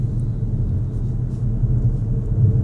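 Inside a rear-wheel-drive Xpeng G6 electric SUV with 282 horsepower, 440 Nm and acoustic glass, a smooth, steady low rumble of road and motor noise fills the cabin during acceleration.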